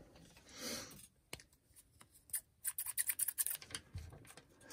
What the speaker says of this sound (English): we got to do a cut.